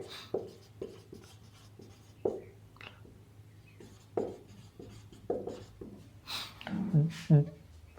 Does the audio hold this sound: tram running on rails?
no